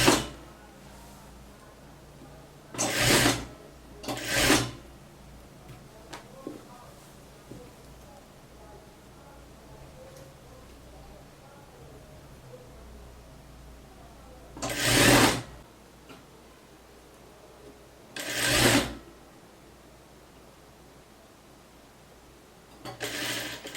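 A sewing machine stitches a blouse in four or five short bursts of a second or so each, with long quiet gaps between them filled by soft handling noise.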